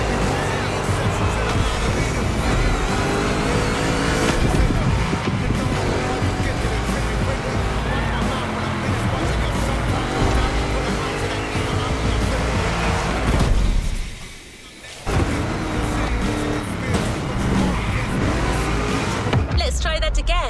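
A heavily modified giant Mustang GT race car in The Crew Motorfest roars through a two-lap race, its engine droning loudly and steadily with tire noise, briefly dropping out near the middle before surging back.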